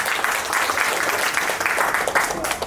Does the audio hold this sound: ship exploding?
no